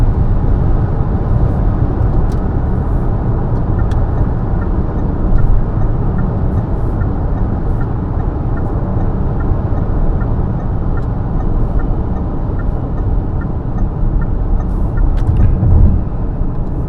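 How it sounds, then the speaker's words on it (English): A Skywell BE11 electric car accelerates on the road, producing a loud, steady broadband rush of tyre and wind noise throughout with no distinct engine note. "so let's do an acceleration test again"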